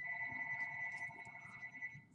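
Telephone ringing indoors, a sustained electronic tone held for about two seconds against faint room noise, moderately quiet and unanswered.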